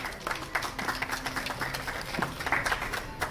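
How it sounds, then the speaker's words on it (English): An audience at a running-shoe ambassador introduction event applauds for triathletes and bike shop founders; scattered, moderately loud clapping with some irregular peaks, mixed with faint crowd noise. "Let's give them a round of applause."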